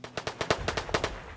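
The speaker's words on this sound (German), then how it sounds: "Schüsse auf ihn." Gunshots in the video game DayZ: a quick burst of about eight sharp, loud reports in fast irregular succession over roughly a second and a half.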